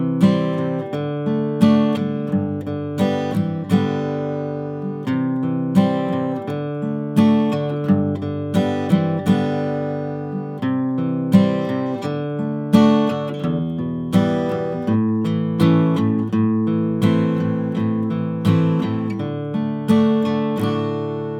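Acoustic guitar plays the third section of a song with a pluck-and-strum pattern, clear and close, each chord ringing out in an even, unhurried rhythm with no talking.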